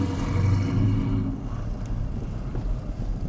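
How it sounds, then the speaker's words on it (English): A V8 all-wheel-drive police car drives on snow tires through snow, its engine a low rumble that fades as it passes, with wind noise in the background. "I love the sound of that V8"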